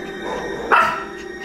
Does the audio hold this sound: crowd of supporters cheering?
no